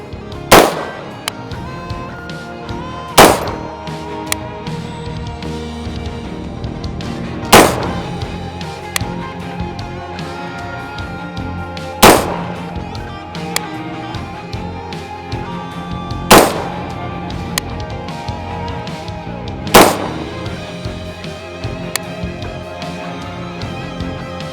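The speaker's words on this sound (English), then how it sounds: "Let's try and shoot a group at 100 yards and just see how it does." Rifle shots from a Bushmaster 11.5-inch short-barreled AR upper fired at a 100-yard target: six sharp, loud reports spaced roughly every three to four seconds, each with a brief ringing tail, over steady outdoor background noise.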